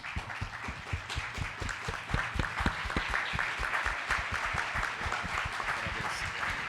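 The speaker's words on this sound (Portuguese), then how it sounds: "de pé, vamos aplaudir o nosso mercado" A standing audience at a travel-industry technology event applauds in a thick, sustained wash of clapping with sharp individual claps standing out, holding steady throughout.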